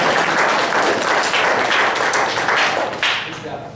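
Audience clapping at a youth sports awards ceremony, a dense steady applause that carries on for several seconds before tapering slightly, close and loud.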